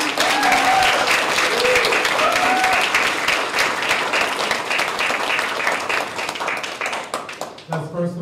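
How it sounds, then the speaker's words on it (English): A school choir's audience applauds at a middle school winter concert, a dense, steady wash of many hands clapping that fades out near the end, with a voice briefly speaking as it ends. "Let's give them another round of applause."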